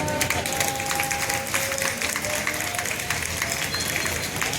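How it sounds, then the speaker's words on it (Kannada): Women in the audience at a Deepotsava inauguration at the Veerabhadreshwar temple in Hubballi clap together, a steady, dense burst of applause held at even loudness throughout, close and full. "ಒಂದೇ ಒಂದು ಸಾರಿ ಬರೀ ಹೆಣ್ಮಕ್ಳು ಮಾತ್ರ ಚಪ್ಪಾಳೆ."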